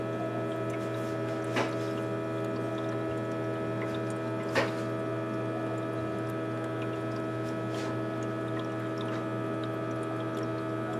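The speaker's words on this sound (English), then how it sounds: "You can hear the compressor." An ice machine compressor runs with a steady low hum and a faint tonal drone throughout, joined by a couple of soft brief clicks, with no talking.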